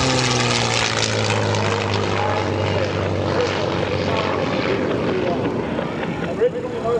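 A North American warbird fighter with an Allison engine roars steadily and loudly nearby, a continuous propeller drone with rising and shifting pitch at an airshow.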